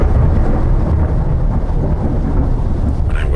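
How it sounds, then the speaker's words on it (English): A violent thunderstorm, loud continuous deep rumbling thunder blended with steady heavy rain, sustained throughout without a break. "we witnessed a most violent and terrible thunderstorm"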